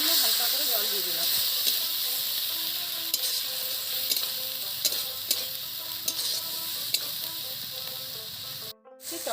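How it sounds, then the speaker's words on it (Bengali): Jackfruit curry with a splash of water bubbles and hisses steadily in the pot, a constant bright sizzle with occasional clicks of stirring and a brief dropout near the end. "কষানোর জন্য হালকা করে জল দিয়ে দিলাম।"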